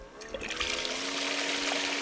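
Water runs steadily into a bucket, a continuous close trickling and splashing that holds at a constant level for the whole stretch, with no talking.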